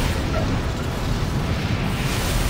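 A Kojima bomb explodes in the video game Armored Core: For Answer with a loud, sustained, deep roaring blast that fills the whole moment with rumbling noise.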